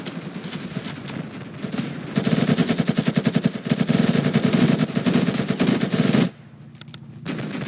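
Rapid automatic gunfire in the game Ravenfield, loud dense bursts of shots that swell into a sustained barrage, then cut off abruptly near the end.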